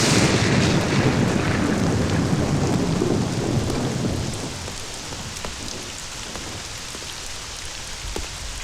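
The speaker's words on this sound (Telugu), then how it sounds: "పైగా ఈ రెయిన్ ఎఫెక్ట్ కూడా." Heavy rain pours loudly with deep thunder rumbling underneath, the downpour easing after a few seconds into a lighter, steady patter.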